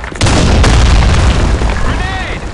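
A grenade detonates in a game firefight with a sudden loud, deep boom that rumbles and slowly decays over a couple of seconds while voices shout in the background.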